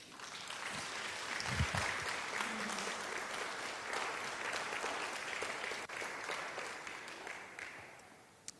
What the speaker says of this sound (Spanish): ¿Alguien le daría un aplauso al Señor?